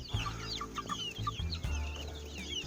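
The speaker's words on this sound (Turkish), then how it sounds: "Favori damızlı horozum bakın." Chickens and a breeding rooster cluck and chatter close by in a coop in quick, uneven bursts, with a low rumbling hum underneath.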